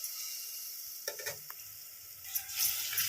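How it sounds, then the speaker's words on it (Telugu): A spoon stirs yogurt into a mixture cooking in a pan, making soft wet scraping and clinking strokes over a steady, close sizzle. "ఇప్పుడు మనం ఇది వేసుకొని మంచిగా దీన్ని కలబెట్టుకుందాం."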